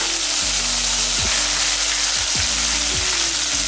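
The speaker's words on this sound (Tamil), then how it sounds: "வெங்காயம் இந்த அளவுக்கு வதங்கினா போதும்" Onions sautéing in a pan for egg gravy give off a loud, dense, constant sizzle close up, with a few sliding scrapes from stirring every second or so.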